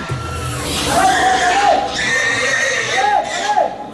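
Hundreds of pigs squeal and cry at a slaughterhouse at night, a loud, dense, chaotic din of overlapping shrieks with rising and falling wails.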